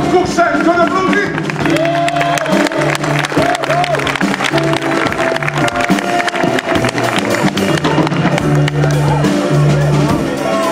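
Loud, continuous applause fills a slam poetry semi-final as the first poet is welcomed, with voices and tonal sounds running under the clapping throughout.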